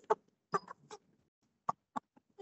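A young chicken raised on a farm clucks in short, sharp, irregular bursts, close and fairly quiet, with gaps of silence between them.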